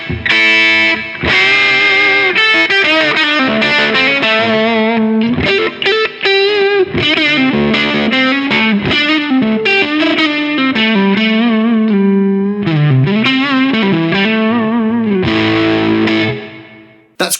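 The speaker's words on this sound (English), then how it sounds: "So let's say I want a low gain overdrive with a bit more of a scoop American sound." Electric guitar through a Kernom Ridge overdrive pedal set for a low-gain, mid-scooped American tone, playing a continuous run of chords and single-note lines up close, with a brief pause before the end.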